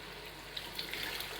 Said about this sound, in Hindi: अब हम इसमें डाल देंगे पानी